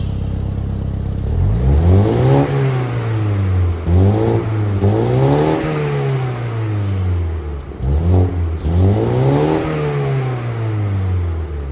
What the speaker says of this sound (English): we have dual exhaust right here, which make this 4-cylinder sound really cool.